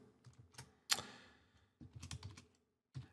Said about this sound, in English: as I'm typing this out